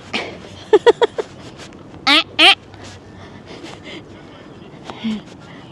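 White geese honk outdoors at Paffendorf Castle in a few short bursts: a quick cluster of three or four calls, then two louder ones, over a background of outdoor voices and talking.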